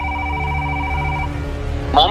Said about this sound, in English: The phone rang and rang and rang and rang and rang